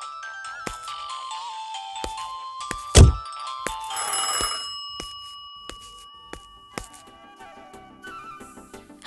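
A phone rings with a melodic electronic ringtone whose tones step through a repeating tune, broken by a sharp thump partway through, then continues more faintly to the end. No speech is heard.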